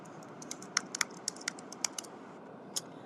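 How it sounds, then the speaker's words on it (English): Quick, irregular clicks of fingers tapping out a short entry on a computer keyboard in a quiet room, about a dozen crisp keystrokes close by. "I have to type it in the little search box."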